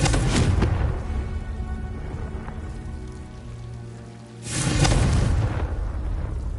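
A Confringo fire blast spell explodes in the video game Hogwarts Legacy, with a loud broadband burst at the start and another roaring blast midway, separated by a rumbling, crackling lull.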